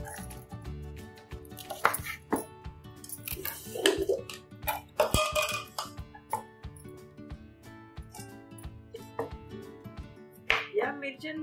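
Chillies being finely chopped for pickle, with irregular knife knocks and clatter on a board and some dish sounds, while a voice talks over it.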